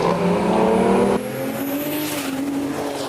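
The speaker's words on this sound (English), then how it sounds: "6-pack versus 6-pack here at Roadkill Nights. O'Malley's away first" Dodge Charger Six Pack race cars launching side by side in a street race at Roadkill Nights in Detroit, a loud roaring engine note that shifts abruptly as gears change, with a thin high whine overhead.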